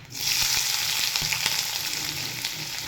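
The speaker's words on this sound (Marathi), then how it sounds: "त्यानंतर याच्यामध्ये बारीक चिरलेला कांदा घालून घ्यायचा" Finely chopped onion drops into hot oil already crackling with cumin and mustard seeds for a quick onion-tomato chutney, bursting into a loud, continuous close sizzle with faint stirring taps.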